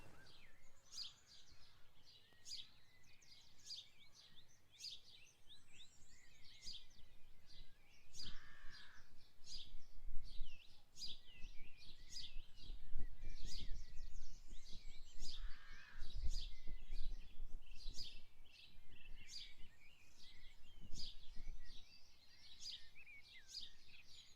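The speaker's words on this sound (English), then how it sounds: "it was just a lovely, peaceful place to sit and listen to the bird song" Many birds chirp and sing in rapid overlapping calls, fairly close, in the grounds of a stately home, with a low rumble of distant background noise underneath.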